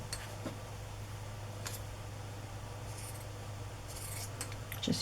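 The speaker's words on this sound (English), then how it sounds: "Just use some pinking shears to give it an interesting edge" Pinking shears snip through a piece of fabric with soft, crisp little clicks, a handful of scattered cuts over a steady low background hum, close and quiet.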